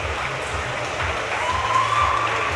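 Crowd applause in the stands at a national summer swimming meet as a 200 m race finishes, a steady broad wash of clapping throughout, growing slightly louder in the second half, with a faint whistle-like tone running through it.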